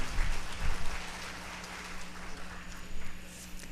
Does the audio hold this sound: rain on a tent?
no